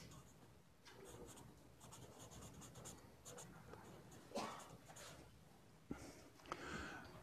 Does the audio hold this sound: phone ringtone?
no